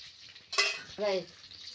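Garlic and green chillies hit hot oil for a tempering in a pan on a wood-fired stove, giving one short, quiet burst of sizzle followed by a faint stirring sound.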